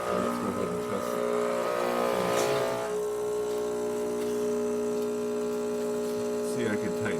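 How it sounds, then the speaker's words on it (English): A Rancilio Silvia espresso machine pulls a test shot after a full tune-up, its steady pump hum and drone running continuously without talk, with a brief louder gurgle near the middle. "now the machine's looking great, let's go ahead and test it."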